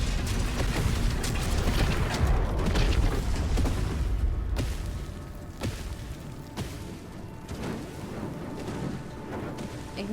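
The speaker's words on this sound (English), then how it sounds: "Ignore the explosions." Explosions in Baldur's Gate 3, a loud rumbling barrage of booms at the start that thins into scattered, fainter blasts and crackles over the remaining seconds.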